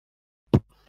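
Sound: voice imitating a drum

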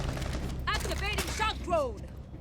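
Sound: gunfire in a video game

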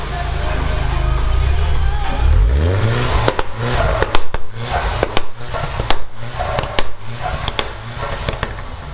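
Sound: Volkswagen Scirocco R two-litre engine exhaust revving

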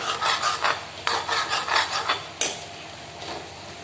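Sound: potatoes being roasted and stirred in a kadai

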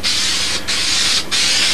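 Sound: spray adhesive test spraying on foam wing core

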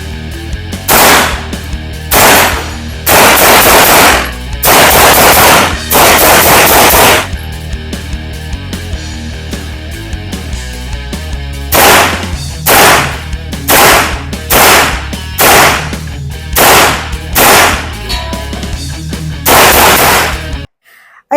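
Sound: test firing Celik Arms Crossline-C rifle, gunshots

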